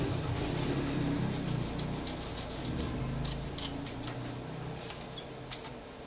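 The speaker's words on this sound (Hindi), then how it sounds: "सो पेपर को आपको लेना है और उसको पहले कट कर लीजिए।" Scissors cutting printed paper near a mobile cover printing machine, giving quiet, irregular snipping over a steady low mechanical hum, with no speech.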